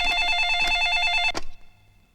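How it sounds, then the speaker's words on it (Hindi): A telephone rings with a steady electronic tone for just over a second, then clicks off as the call is picked up, in a tense Hindi film scene about phoning the chief minister; the room goes quiet afterward. "मुख्यमंत्री बाबूराव जी देशमुख को फोन लगाओ।"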